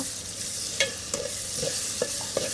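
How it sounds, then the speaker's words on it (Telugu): Ginger garlic paste goes into fish masala frying in a pan, giving a steady soft sizzle with a few light scrapes and stirring clicks of a spoon, close by and without talk. "చేప ఉంది కాబట్టి లైట్గా అల్లం వెల్లిపాయ పేస్ట్ వేస్తున్నాం"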